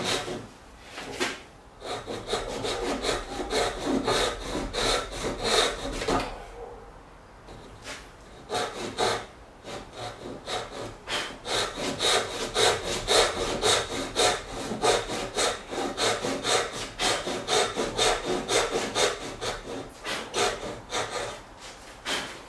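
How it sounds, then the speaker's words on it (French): Hand saw cutting through wood along a shoulder line while building the top of a Roubo workbench, with steady rhythmic rasping back-and-forth strokes, close and loud, a brief pause partway through, no talking. "Ça va me permettre de guider plus facilement la lame de ma scie sur l'arasement."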